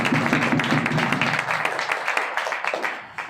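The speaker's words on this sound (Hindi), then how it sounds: "जबरदस्त तालियां" A crowd at a network marketing achievers' event gives enthusiastic applause for a coach, dense clapping that is loud at first and then thins and fades toward the end.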